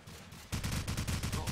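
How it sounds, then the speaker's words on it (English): Rapid automatic gunfire in Call of Duty 4, a burst of evenly spaced shots fired through a wall, starting abruptly after a quieter moment, with a commentator speaking beneath. "Trying his best to wallbang onto Delru."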